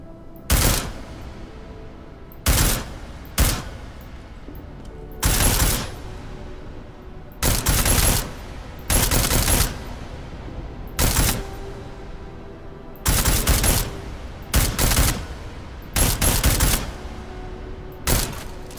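Bursts of automatic rifle fire on a weapons-training range in Deus Ex: Mankind Divided, about a dozen loud, close volleys of varying length separated by short pauses, with no talking.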